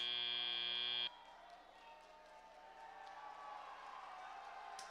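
A loud end-of-match buzzer at a FIRST robotics district event blares steadily for about a second, then cuts off. Crowd noise and cheering swell in the arena right after it.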